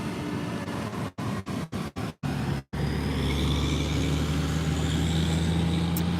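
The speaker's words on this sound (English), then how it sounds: "Here comes another dump truck." A dump truck drives past on a road, a loud broad rumble of engine and tyres that swells and holds, with a brief break in the noise early on.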